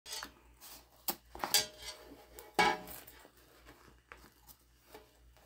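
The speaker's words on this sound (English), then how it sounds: "Now we need to trim off any zipper tape." Scissors trim excess zipper tape from a fabric tote bag lining panel, giving a handful of quiet, irregular snips and rustles of material, with brief sharper cuts among soft handling noises.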